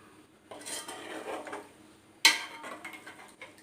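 A spoon clinks and scrapes against a pot while stirring a sand clam curry, soft shuffling stirs followed by one sharp metallic knock, close and moderately quiet.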